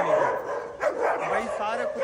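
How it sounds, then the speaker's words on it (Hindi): Several pet dogs bark and yip indoors, short excited barks and whimpers rising over a steady background, fairly close but not loud. "सारे कुत्ते इस पे बोल रहे यार"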